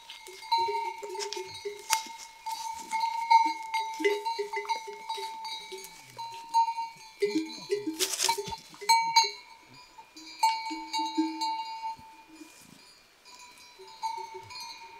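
A herd of goats wearing bells, with many bells clanking and ringing irregularly close by while goats bleat intermittently throughout.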